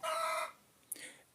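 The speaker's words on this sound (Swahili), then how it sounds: "Nasikia hata kuku imecomplain." A chicken gives a short, faint crowing call, followed a moment later by a softer cluck, with no voices.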